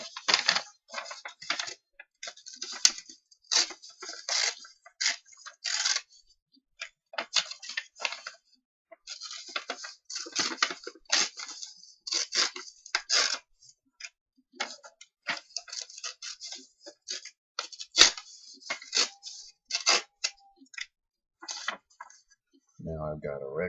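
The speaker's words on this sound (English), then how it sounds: "So I'm tearing the edges off of the envelope flaps." Paper envelope flaps being torn along their edges, a long run of dry crisp ripping and crinkling bursts, close and fairly quiet, with brief gaps and no talk over it.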